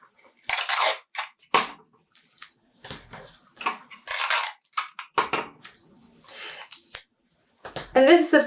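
Sharp rips of adhesive tape being torn to fix a sheet of paper under a dress pattern draft, a series of loud, close bursts separated by short pauses.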